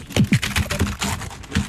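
Computer keyboard typing, a quick run of about a dozen close key clicks and thumps in an uneven burst, with no one speaking.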